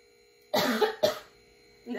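Two sharp coughs in quick succession, close and fairly loud, followed by a short burst of a third after a pause.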